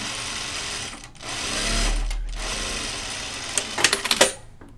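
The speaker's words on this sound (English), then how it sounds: "I'm always removing threads as I sew" Sewing machine stitching a caftan, a close, steady whirring run of stitches that pauses briefly twice, then ends with a few sharp clacks and rattles.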